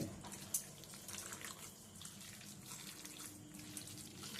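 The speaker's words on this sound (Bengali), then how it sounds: "আমি সামান্য একটু জল দেবো আর একটু অল্পই জল দিচ্ছি" Small splash of water poured into a raw chicken mixture for chicken balls, a faint trickling patter with a brief sharp drip near the start, quiet and close.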